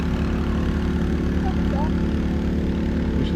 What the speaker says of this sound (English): The tractor's noisy, isn't it?